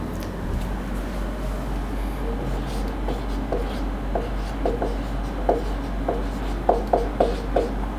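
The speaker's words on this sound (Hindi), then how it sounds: "थोड़ा बड़ा लिख देते हैं।" Chalk or marker scratches and taps on a classroom board in short, regular strokes, faint at first and then more distinct, over a steady low background hum with no talk.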